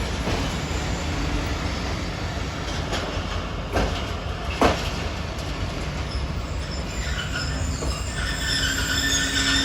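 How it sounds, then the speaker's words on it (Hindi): The Karachi Express, hauled by a ZCU-30 locomotive, rolls into a platform at Multan Cantonment and stops: a steady, loud rumble of wheels and rail noise with faint squeals and a few clanks, heard close with no talk. "लें जी, ट्रेन स्टॉप कर चुकी है।"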